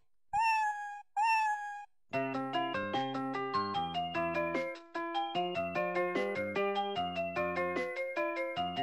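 A Vtech Singspaß toy microphone from 2009 plays two short electronic cat meows, then launches into a bright, tinkling synthesized melody with steady rhythmic notes.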